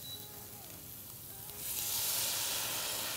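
Tomato sauce for red lentil pasta sizzles in a hot frying pan, a steady close hiss that swells louder partway through, with no talking.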